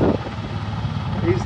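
A Denel Rooivalk attack helicopter comes down for a touch-and-go landing at an air display, giving a steady, moderately loud rotor and engine drone throughout with some wind noise.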